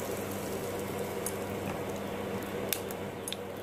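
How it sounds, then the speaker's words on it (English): Mustard seeds splutter in hot oil in a pan, a steady sizzle flecked with scattered faint pops and crackles, close and continuous, with no talk. "Now the mustard seeds have started to splutter."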